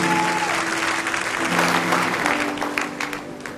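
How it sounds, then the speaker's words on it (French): Church congregation applauding and cheering throughout a worship service, dense sustained clapping with crowd voices, loud and close with no pauses. "tu peux acclamer le Seigneur dans toutes les salles"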